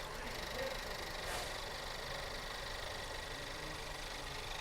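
A Volkswagen Passat engine idles steadily while being watched for a misfire, a close, even mechanical hum and rattle with no clear stumble.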